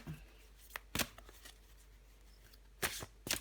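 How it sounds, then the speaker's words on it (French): A tarot card drawn from a deck during a weekly Scorpio reading: a few brief papery snaps and slides of cards, close and soft, separated by quiet gaps. "je vais prendre encore une carte pour vous les scorpions"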